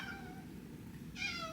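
A cat gives a couple of short, quiet meows near a play tunnel, with a brief high call rising near the end over faint room noise.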